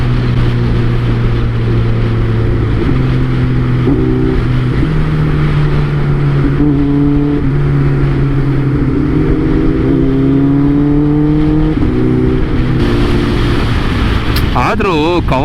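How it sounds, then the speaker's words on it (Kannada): A Kawasaki inline-four motorcycle revs on a group ride through morning traffic, its engine note rising and falling in smooth sweeps, loud and close, ending in a sharp higher rev. "ಆದರೂ ಕವಾಸಕಿದು ಇನ್ಲೈನ್ 4 ಸೌಂಡ್ ಗುರು."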